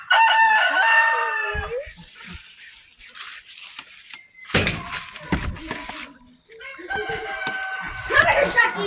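Backyard chickens being sprayed with a Super Soaker water gun cluck and squawk in bursts, with rooster-like calls, hissing water spray and brief voices in between.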